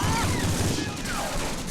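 Bursts of rapid gunfire ring out in the PlayStation 2 World War II shooter Medal of Honor: Frontline, short crackling volleys under game music and effects, fairly quiet in the mix.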